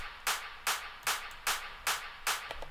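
A standard clap 03 sample from a future bass production repeats six times at an even tempo, each hit a sharp bright snap with a short tail, alone and unaccompanied.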